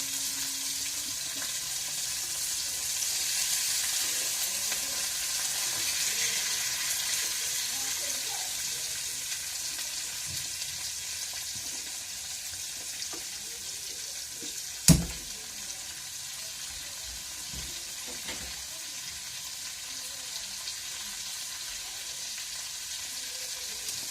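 Cauliflower frying in a pan for homemade chowmein, a soft continuous sizzle with faint stirring and kitchen noise, one sharp clatter midway, fairly quiet throughout.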